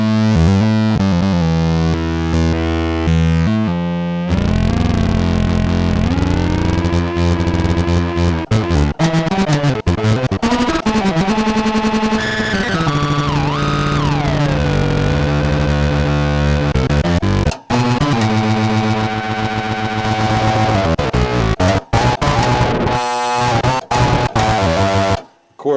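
Korg MS-20 synthesizer patched into a filter feedback loop gives loud, distorted, shifting drones with sweeping and warbling pitches and abrupt cuts, dense and continuous for the whole stretch without speech.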